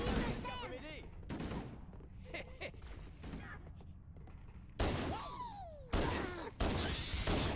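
Pistol shots in Halo: Combat Evolved ring out in sharp, separate bursts among other game noises and effects, while someone talks over much of the action.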